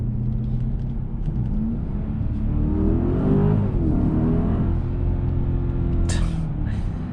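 A 2021 Mercedes GLS 580 SUV accelerates hard from inside the cabin, a loud steady engine rumble rising and swelling in pitch, with a brief brighter noise burst near the end.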